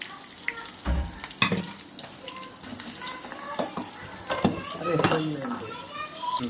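Eggs fry in a hot pan with a close, crackling sizzle, broken by stirring scrapes and a few knocks against the pan. A voice talks faintly in the background.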